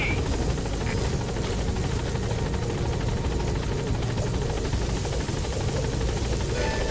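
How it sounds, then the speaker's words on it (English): A support helicopter arrives at a landing zone in Metal Gear Solid V: The Phantom Pain, its rotor wash a steady, loud, dense thrum that fills the scene without letup. "Support helicopter has arrived."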